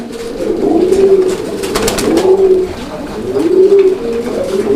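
Gola pigeons give deep, throaty coos in repeated rolling phrases, loud and close, with no talking over them.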